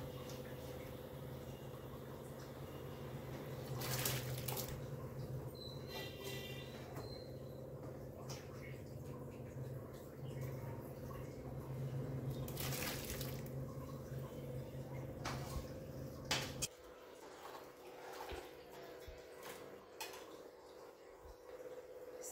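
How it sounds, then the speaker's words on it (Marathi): Sago pearls tipped into a pot of boiling water for a fasting-day recipe, giving a few brief rattling, splashing bursts over a steady stovetop bubble and hum. "पाण्याला उकळी आलेली आहे, त्यात आपण आता साबुदाणा टाकून घेऊ"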